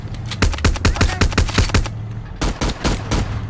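Rapid bursts of video game gunfire from four guns fired at once, a dense string of sharp cracks broken by a short pause before more volleys, with faint voices in the background.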